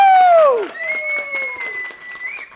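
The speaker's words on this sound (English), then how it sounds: "Oh, we're clapping." Audience at the Index Exchange Hackathon 2019 breaks into clapping and cheering: a loud whooping voice slides downward, then sustained cheers ring over scattered claps throughout.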